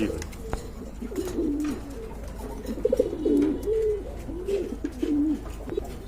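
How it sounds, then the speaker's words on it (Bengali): Large, colourful pet pigeons coo at a pigeon market in Bangladesh, a few soft, throaty rolling calls one after another, close by, over low background murmur and faint voices. "আর এখানে দেখতে পাচ্ছেন আরেক জোড়া কবুতর রয়েছে মার্শাল্লাহ খুবই সুন্দর কালারফুল কবুতর"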